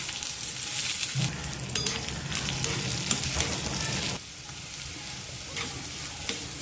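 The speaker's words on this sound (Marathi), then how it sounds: "कांदा तेलावर थोडंसं भरतायचं आहे आपल्याला जास्त गुलाबी करायचं नाही आहे" Chopped onion, green chili and curry leaves sautéing in hot oil with cumin, a dense close sizzle with stirring scrapes that eases slightly partway through.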